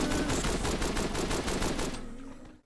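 Rapid automatic gunfire from the first-person shooter Bedlam, a fast burst of evenly spaced shots lasting about two seconds before trailing off into a fading echo.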